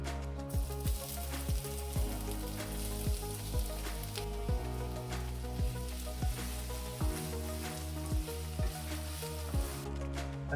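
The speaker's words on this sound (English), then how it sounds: "The oil's hot, so let's add the chopped onion first." Chopped onion frying in hot oil in a pan, a steady sizzle running throughout with regular dull knocks of stirring, close and alone without talk, under a low background hum.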